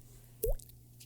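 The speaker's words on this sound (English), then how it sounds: "That's a water drop." A single water drop plinks once, a short rising bloop over a quiet background hum.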